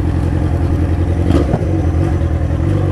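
A Yamaha XJ6 motorcycle with a broken engine idles roughly nearby, producing a steady, uneven low rumble with a brief clattering stumble partway through.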